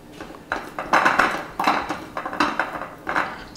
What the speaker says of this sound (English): So I'm gonna toss them to coat them.